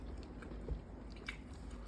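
Someone chewing a bite of home-cooked pasta with basil pesto, soft crunchy bites close to the mic and a couple of sharper crunches, with no talking.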